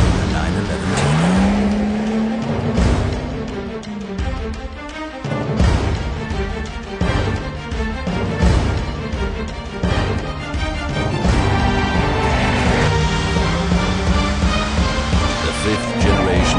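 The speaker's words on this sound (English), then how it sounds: "A bi-turbo engine provides for even more dynamic performance." A Porsche 911 (997) Turbo with a bi-turbo engine and all-wheel drive accelerates hard, its loud engine rising through gears in repeated climbing sweeps, overlaid by music and a narrating voice.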